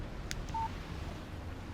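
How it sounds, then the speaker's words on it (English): A short electronic phone alert tone from a text message in the video game Alan Wake Remastered, a single brief beep heard faintly over a quiet background hum. "Text message from Barry."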